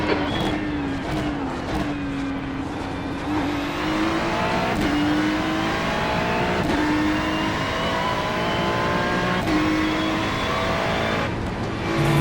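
Ferrari race car engine at Zolder circuit in the iRacing simulator, a loud sustained roar that climbs through the revs with tonal sweeps and brief dips at gear changes, continuous and close, with no talking.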